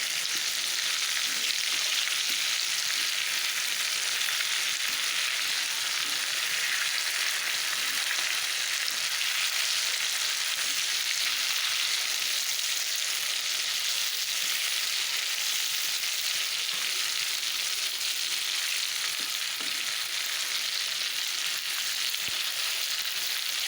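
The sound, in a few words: chicken pieces frying in a pan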